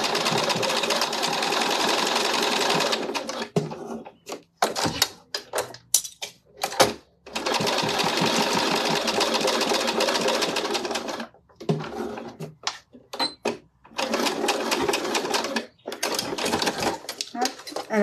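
A domestic sewing machine stitches a seam on a zippered fabric pouch, running in bursts of fast mechanical whirring separated by short pauses, with a person talking between and over the runs.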